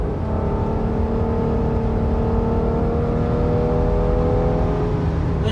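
A minivan engine revs up, its steady droning tone climbing slowly in pitch over several seconds, loud and close, with no talking.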